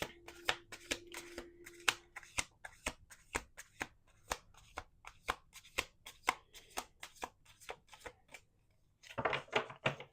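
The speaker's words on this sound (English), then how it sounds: "We're going to do 2 more shuffles." Tarot cards being shuffled close up in a steady run of crisp riffling clicks and snaps, with a brief tonal hum early on and a denser burst of shuffling at the end.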